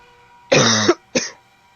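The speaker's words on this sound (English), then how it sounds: "Keep coughing." A person coughs close by: one longer, harsh cough followed by a shorter second one, with quiet background between.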